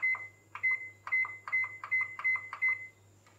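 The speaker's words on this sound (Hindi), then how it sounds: "तो अगर हमने इसे चेंज करना है तो हम इसे बार बार प्रेस करेंगे।" A microwave oven's buttons pressed repeatedly while setting the preheat temperature: seven short, clear electronic beeps in a steady rhythm over a low background hum, close and alone.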